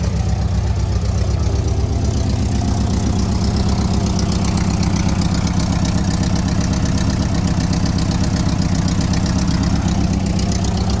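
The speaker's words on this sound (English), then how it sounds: "You can hear the engine run." A 1983 Volkswagen Westfalia van engine idles steadily and close up, with a low, even, pulsing rumble that holds throughout.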